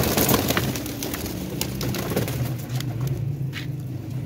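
Low pigeon cooing murmurs along near the microphone beneath a steady background rumble, broken by scattered small clicks and scrapes.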